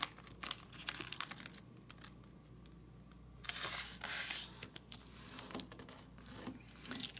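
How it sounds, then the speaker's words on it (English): Sheets of paper folded and creased by hand for an origami hand and wrist armor piece, with close, crisp crinkling and soft rustles in irregular bursts, a louder stretch of crumpling midway, no voices. "And rotate and fold in half again."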